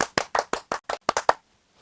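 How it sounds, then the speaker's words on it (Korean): A congregation in a church session after a sermon claps in thanks to God: eight sharp, evenly spaced claps in quick rhythm, close and crisp, then sudden quiet. "하나님께 감사의 박수를 합시다."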